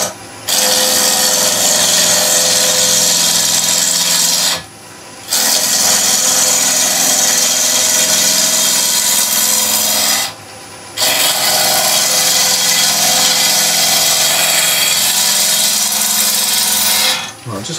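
A 3/8 inch (10 mm) bowl gouge skims the outside edge of a spinning wooden tealight blank on a lathe, making a loud, steady scraping rasp in three long passes separated by short pauses.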